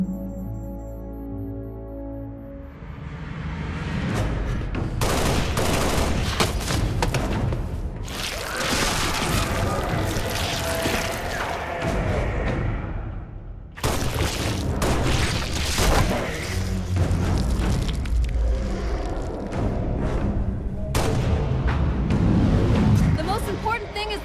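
Heavy booms, blasts and crackling gunfire from the Halo video game fill a long, dense battle stretch, loud and continuous with a short drop midway, while voices speak over the chaos.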